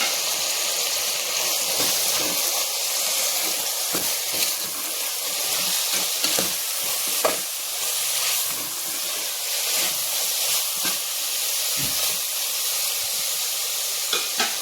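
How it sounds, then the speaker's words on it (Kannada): Soybeans with coriander powder fry in oil for soybean biryani, a steady close sizzle and hiss with scraping stirring strokes throughout, no talk. "ಸ್ವಲ್ಪ ಹೊತ್ತು ಫ್ರೈ ಮಾಡ್ಕೊಳ್ಳೋಣ ಎಣ್ಣೆಯಲ್ಲಿ."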